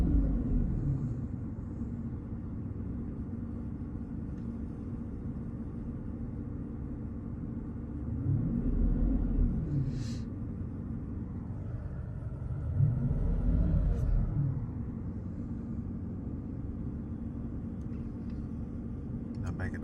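A Mercedes CL600 with no boost and low power revs under throttle, with a low engine drone climbing and falling in two separate surges over a steady idle. Someone talks over it.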